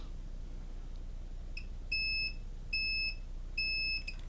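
A multimeter's continuity test sounds three sharp, high electronic beeps of equal length at a regular pace, with faint short chirps just before. It is heard while probing a laptop with a dead power button, with no talk.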